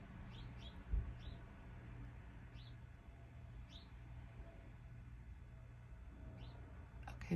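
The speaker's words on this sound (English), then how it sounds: "Okay, bird." Small bird chirps sound faintly and intermittently over a low steady background hum, several short calls spaced a second or so apart, with no talking.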